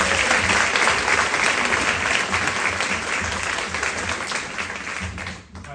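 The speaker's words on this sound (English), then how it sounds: "How about a round of applause for this incredible talent?" Steady applause from an audience, a dense wash of clapping that holds strong and then fades out at the end.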